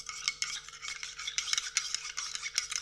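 A spoon scrapes and stirs steadily in a container of powdered sugar, a continuous gritty rasping with small rhythmic pulses, close and fairly quiet.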